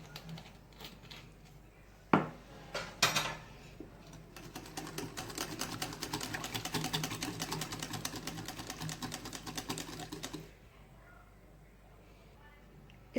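Vanilla essence being mixed into sponge cake batter: a few knocks, then a steady rapid whirring rattle that runs for several seconds before cutting off, with no talking.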